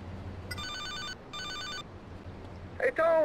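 Telephone ringing inside the Grand Theft Auto: Liberty City Stories video game, two electronic ring bursts with a short gap between them, followed by a brief voice at the end.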